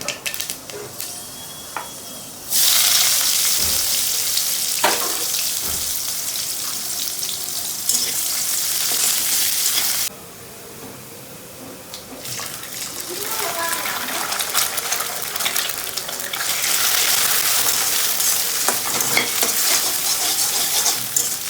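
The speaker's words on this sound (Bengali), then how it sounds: "এর মধ্যে পেঁয়াজ দিয়ে আমি এটাকে আবার ভাজা ভাজা করে নিচ্ছি" Onions fry in a pan with cumin and radhuni, a loud, dense sizzle that swells and drops as the pan is stirred, with scraping knocks, a brief quieter stretch and occasional speech underneath.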